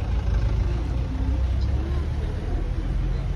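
A car engine idling after being started inside the vehicle, a steady low rumble heard from within the cabin, with speech present in the clip.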